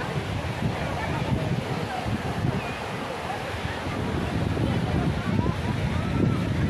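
Big ocean waves at a surfing beach in Hong Kong roar and wash continuously, with wind buffeting the microphone and a voice talking over the broad surf.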